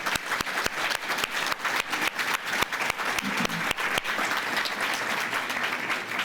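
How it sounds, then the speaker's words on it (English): Audience applause at a Hispanic scholarship luncheon, a steady round of many hands clapping close by, with sharp individual claps standing out and no talking. "Round of applause."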